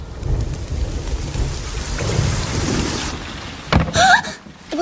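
Heavy rain pours steadily with deep thunder rolling underneath, loud and close, followed by a sharp crack and a brief bright tonal sound near the end.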